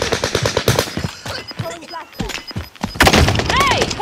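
Video game gunfire crackles in quick bursts and rapid strings of shots, loud and close, mixed with thuds and a voice talking over the action.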